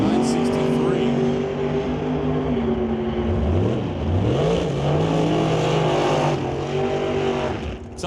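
Drag racing cars, a 1995 Pontiac and an 88 Mustang, roar loudly as engines rev and shift pitch through launches, with an announcer's voice talking over the continuous engine noise.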